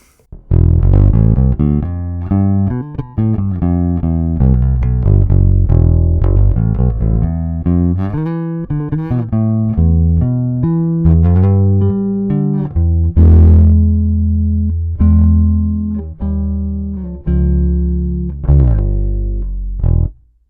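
A Fender American Ultra Precision Bass played with the treble rolled off gives deep, rounded notes and short phrases, loud and close, with no voices over it.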